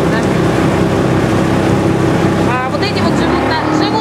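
A motorboat on a river near Siem Reap, Cambodia, its engine droning loud and close with water and wind rushing past, while voices talk over it near the end.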